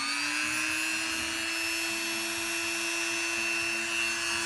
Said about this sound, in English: I used the Dremel for a bit of the edges here too, the small one.